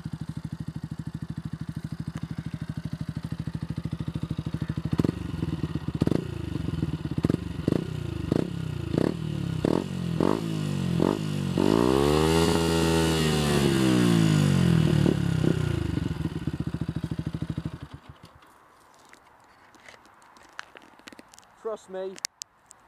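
Yamaha MT125 motorcycle fitted with an Akrapovic exhaust running close by, a steady idle broken by a series of sharp revs and one longer rising and falling rev before it cuts out.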